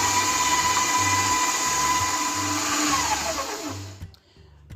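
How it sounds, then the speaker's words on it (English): An electric mixer whirs steadily and loudly while creaming butter and sugar for a fruit cake, then cuts off near the end, leaving a faint hush. "we had our butter and sugar creaming for roughly 5 minutes"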